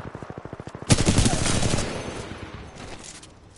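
A heavy gun fires in the video game Titanfall 2: a fast rhythmic series of shots, then a loud booming blast that rings out and slowly fades.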